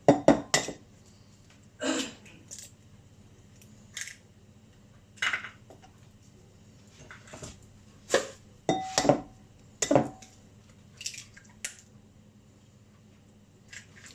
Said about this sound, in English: In a separate bowl, I'm going to crack 2 eggs.